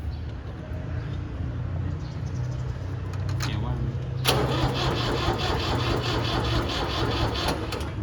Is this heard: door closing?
no